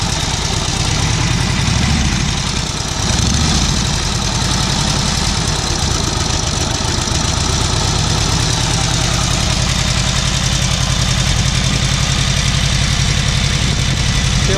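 A restored 1937 Harley-Davidson UL flathead motorcycle engine idles cold with the choke fully off, a loud, close, rough and continuous lumpy beat with steady mechanical rattle.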